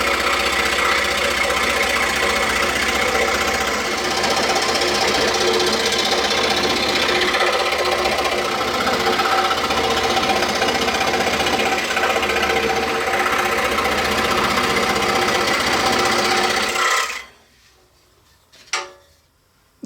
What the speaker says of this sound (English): We're just going to trim off that excess just to make it easier to rotate on the saw.